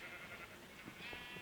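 Sheep bleating in a Minecraft-style video game farm, repeated wavering bleats at moderate level over a steady ambient bed, no talk.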